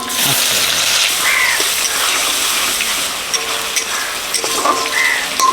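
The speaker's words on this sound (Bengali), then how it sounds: "আদা রসুন পেঁয়াজ বাটা দিয়ে দিচ্ছি" A ginger, garlic and onion paste sizzles loudly in hot mustard oil in a kadai for a fish gravy, with a steady bright frying hiss and occasional stirring scrapes throughout.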